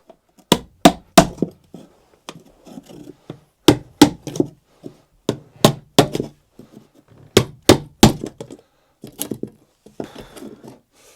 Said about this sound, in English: we just need to get rid of this gripper rod here. So hammer and chisel